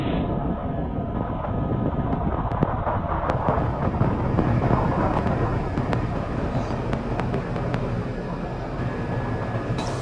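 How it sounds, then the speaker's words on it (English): A SpaceX Falcon 9 rocket lifts off from Vandenberg Space Force Base with a sustained, heavy rumbling roar, crackling bursts scattered through the dense low thunder, steady and loud from start to end. "liftoff of Falcon 9"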